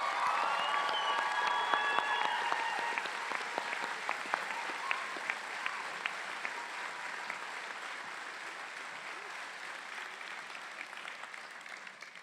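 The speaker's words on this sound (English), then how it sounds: "Let's give our graduating bachelor degree students another round of applause" Sustained applause from a commencement audience for graduating bachelor's degree students at a College of Public Health ceremony, dense and steady across the whole stretch, with some cheering and a voice faintly audible early on.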